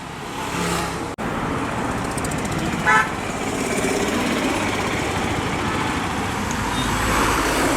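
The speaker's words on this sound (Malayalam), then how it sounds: "കൊട്ടാരക്കരയ്ക്ക് പോകുന്ന വണ്ടിയാണ് പോയത് കേട്ടോ" A bus bound for Kottarakkara rolls past on a busy Kayamkulam town street, its rumble blending into steady roadway traffic noise, with a brief horn toot and a sharp knock partway through.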